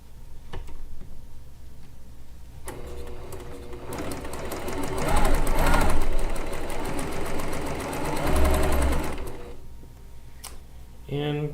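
A sewing machine stitches a run of quilt blocks by chain piecing, starting after a short quiet lead-in and whirring with a rapid mechanical clatter that swells and eases before stopping near the end.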